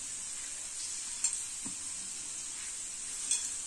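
Spiced masala peanuts are stirred in a pan with a steady, soft hiss underneath and a couple of faint scraping clinks from the utensil, quiet and close with no voices.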